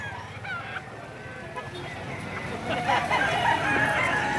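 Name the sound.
rooster crowing at a chicken seller's in Padre Garcia, Batangas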